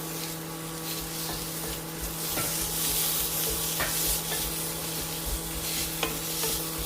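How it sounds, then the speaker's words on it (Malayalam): Chopped tomatoes sizzling in a pan of frying spice mix for a curry, a steady close frying hiss with scraping stirring strokes and occasional clicks of the spoon against the pan, no talk. "അതിലേക്ക് അരിഞ്ഞ് വെച്ചിരിക്കുന്ന തക്കാളിപ്പഴം ചേർക്കാം."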